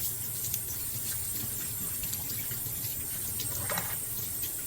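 Tap water runs steadily into a sink as a dehydrated orchid gets washed beneath it, a continuous close splashing hiss with small fluctuations and no voices.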